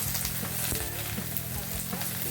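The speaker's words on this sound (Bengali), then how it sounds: "ভালো করে ঝিঙেটাও আমি নেড়ে নেবো" Sliced ridge gourd is stirred with salt and turmeric in a hot pan, giving a loud, steady sizzle broken by soft scraping strokes of the spatula, with no voices.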